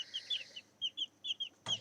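Several chickens clucking in short, bright bursts one after another, close by and fairly quiet, ending with a sharper squawk, with no talking.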